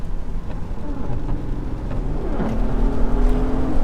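A Mercedes SL65 AMG pulls hard on a wet road in the rain, its engine note rising steadily into a loud, building roar with tyre and road noise underneath, heard from inside the car.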